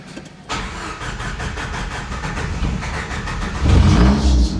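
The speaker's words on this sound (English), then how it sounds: "I'm gonna have to get in here and give it a little gas." A 1987 Jeep Comanche engine cranks and catches, then runs loud and close with a rough, pulsing idle before the revs climb toward the end.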